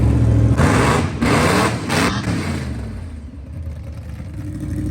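A supercharged big-block 1956 Chevy roars as the throttle is floored for a moment, with loud engine bursts in the first two seconds that settle into a steadier, quieter drone.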